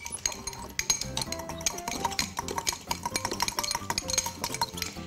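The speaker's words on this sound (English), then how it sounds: "So take your fork, everyone, and give it a good mix" A fork mixes and clinks against a bowl while a courgette and parmesan bake mixture is being stirred, giving steady scraping and tapping strokes with bright metallic clinks, close and moderately loud, with no talking.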